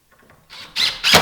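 A screw driven through a wooden top cap into a post, three rising bursts of squealing, grinding drive noise growing louder, close and alone.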